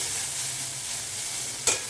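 Food frying in a pan for a home-cooked meal, with a steady loud sizzle and stirring scrapes throughout and a brief clatter near the end.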